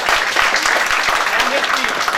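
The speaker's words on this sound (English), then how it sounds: "A big round of applause for Zubair." Seminar audience clapping in a steady, dense burst of applause for the short stretch, fairly loud and close, with a voice faintly heard under it.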